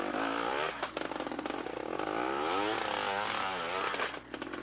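A trial motorcycle climbs through a rocky section at the 1989 Trial World Championship round in Canada, its engine revving and bouncing in pitch amid clattering over rocks, with a steady tone running underneath.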